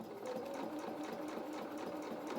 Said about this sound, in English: I'm going to carry on stitching